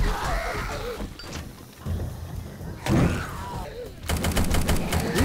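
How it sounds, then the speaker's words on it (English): A gun fires in 7 Days To Die amid a frantic undead horde attack. Single loud shots and mechanical clatter build into a rapid string of shots at the end. "That gun makes a satisfying sound."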